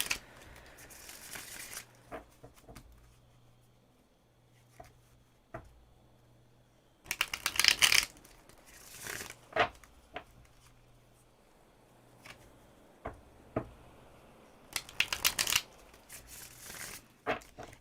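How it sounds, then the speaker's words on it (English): A deck of reading cards is shuffled in three brisk riffling bursts separated by quiet stretches with scattered soft taps and card handling, close and fairly faint. "Baby Joe, I'm going to shuffle them like this again"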